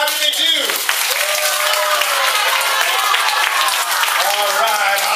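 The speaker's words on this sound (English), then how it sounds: "Give him a round of applause" A round of applause from a group in a classroom training session, dense clapping for about five seconds with a voice calling out over it.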